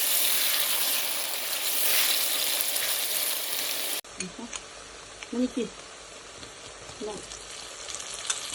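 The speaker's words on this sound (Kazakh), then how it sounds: "Енді пиязын азырақ қуырып аламыз." Meat and onions sizzle and fry in a pan for lagman, a steady loud hiss that drops after a few seconds to a quieter sizzle with brief stirring scrapes, while a voice speaks briefly.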